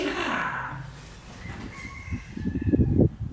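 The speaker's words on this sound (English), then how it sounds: "roosters crow every morning to remind us to listen to the Buddha's teachings" A rooster crows once, nearby and moderately loud, followed by a burst of rough clucking and scratchy fowl noise as the call trails off.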